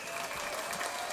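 A burst of crowd applause plays as a sound effect in a Halo gaming commentary, dense steady clapping that fills the whole moment, loud and unbroken.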